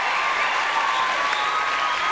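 Studio audience applauding on a French TV variety show, a steady dense wash of clapping that fills the short stretch evenly and loudly, with no voices on top.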